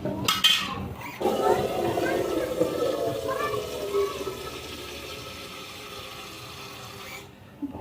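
Water poured into a pot to heat for coffee: a close, splashing pour that settles into a softer, steady trickle, ending in a few clinks of metal, with faint talk at points.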